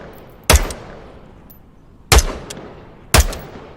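Three sharp, loud gunshots with reverberant tails come from a freehanded weapon without a stock in the VR shooter Onward, spaced unevenly over a few seconds.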